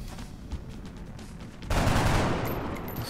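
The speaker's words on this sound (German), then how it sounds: "War wieder ein sehr guter Schuss." Gunfire from the video game XCOM: Enemy Within, Long War mod, breaks in suddenly after a quiet stretch: a loud, dense burst of shots that rattles on and slowly fades.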